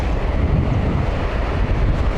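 Cold wind buffets the microphone at a campsite on a cliff edge, a dense steady low rumble with no break and no voices.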